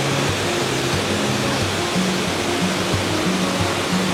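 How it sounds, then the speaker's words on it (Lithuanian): Rushing mountain stream near Chamonix, a dense, continuous close-up wash of flowing water that stays steady throughout with no voices. "upeliukas."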